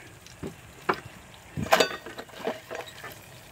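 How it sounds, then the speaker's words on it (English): A few light clinks and scrapes as a cooked egg is scooped out of a small electric cooker, soft and close, with scattered short taps and no talk. "we'll scoop up our egg here"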